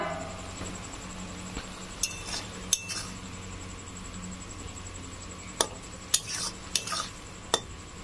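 A metal lid comes off a cooking pot of bitter gourd and poppy seed curry with scattered light clinks and clatters, including a cluster of sharp metallic taps, over a low hum of the stove, with no speech.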